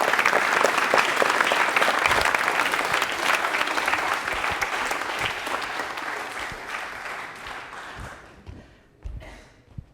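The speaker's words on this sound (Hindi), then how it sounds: "तालियां हो जाए फिर जोरदार एक बार" A studio audience at a televised quiz show at UEM Jaipur bursts into loud, dense clapping for a contestant's correct answer. The applause gradually thins and fades out over about ten seconds.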